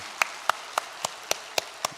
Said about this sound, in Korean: 우리를 위해 오신 주님께 우리 영광의 박수 함께 올려드리겠습니다